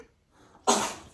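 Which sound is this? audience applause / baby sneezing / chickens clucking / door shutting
baby sneezing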